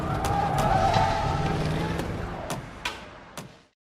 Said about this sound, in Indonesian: dia melihat sebuah mobil melaju terburu-buru keluar dari motel itu